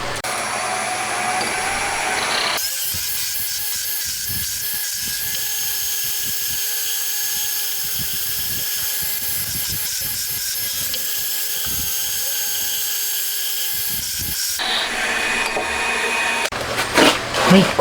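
Steady high whine of a machine cutting a counterbore into a camshaft flange for a 125cc twin-cam 16-valve four-cylinder engine, starting abruptly and running loud and continuous for about twelve seconds before stopping.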